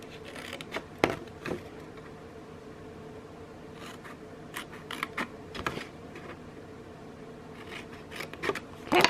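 Quiet scissor snips and paper rustle while score lines are cut on the bottom of a paper Valentine treat bag, with intermittent close crisp cuts and scratches over a low room hiss.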